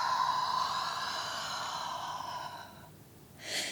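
A long, steady exhale during a full-body mobility exercise, close and soft, fading out over a few seconds and ending with a short breathy puff.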